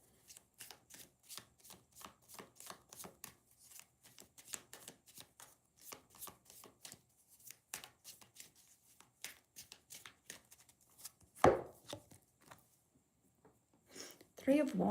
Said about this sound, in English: Tanita, let me just reshuffle